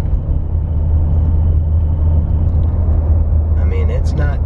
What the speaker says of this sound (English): Alright, accelerating. Yeah, we still got a vibration.